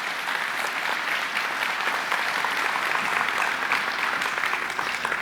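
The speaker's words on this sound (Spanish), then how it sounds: "¿Y cómo no darle un aplauso al Señor?" A church congregation at a Sunday morning service claps steadily for the Lord, a dense, even wash of many hands sustained for several seconds at moderate distance, with no voices standing out.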